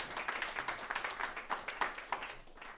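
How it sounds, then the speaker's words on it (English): Faint, fairly sparse applause from an audience for sound engineer Jeff Jones at a blues music event, individual claps distinct and uneven over a few seconds. "Give a round of applause, Jedi."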